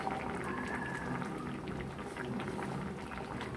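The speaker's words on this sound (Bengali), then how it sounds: "ঝোলটা ফুটে গেছে।" Vegetable curry gravy bubbling steadily in a pot, a soft, continuous simmer of small pops heard close and alone.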